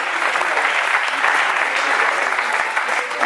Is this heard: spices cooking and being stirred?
no